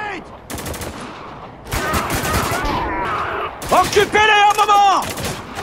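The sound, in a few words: gunfire in the video game Spec Ops: The Line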